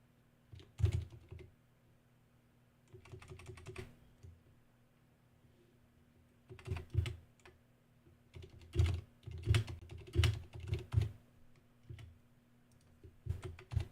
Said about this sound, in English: If you're wondering why I'm typing, I'm posting something on my Twitter.